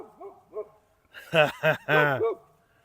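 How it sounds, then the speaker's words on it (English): A boxer dog, upset by a robot lawn mower, gives two soft whines followed by a burst of three loud, close barks, the last one drawn out. "There's Max the boxer, not happy about the robot mower"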